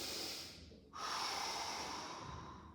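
A single sharp nasal inhale during a guided floor exercise session, close and clear, a brief pause before a longer airy intake, with no talking.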